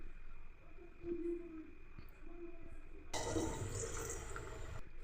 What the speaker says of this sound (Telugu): ఫస్ట్ కొంచెం వాటర్ పోస్తాను